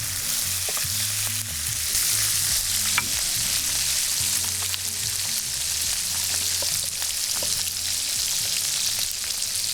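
Tomatoes sizzling steadily in a hot pan while trout is cooked outdoors on a mangrove island, a loud continuous hiss with small crackles and occasional stirring taps close to the microphone.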